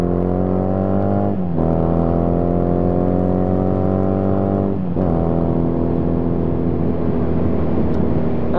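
A Honda Rebel motorcycle engine drones loud and close, its pitch climbing steadily as it accelerates out of a turn, with two brief gear-shift dips before revving up again.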